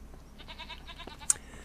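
Goats in the farming video game Farming Simulator 25 give a few soft, quavering bleats that run together over a faint background, ending with a brief sharp click.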